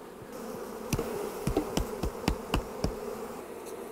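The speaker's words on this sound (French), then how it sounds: "Je suis en train de débarrasser les cadres de miel des abeilles." Honey bees buzz steadily around honey frames as a beekeeper clears them from the hive, with a run of sharp knocks or taps striking at a regular beat over the hum.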